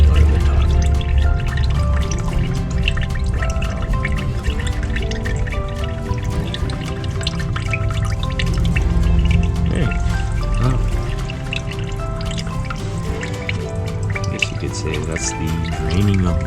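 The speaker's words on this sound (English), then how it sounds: "And then water kept filling it and just kept leaking out of the top." Water drains and drips from an old Ford 360/390 engine that sat full of water for 30 years, a steady wet trickle and patter close by, continuous throughout with no talk.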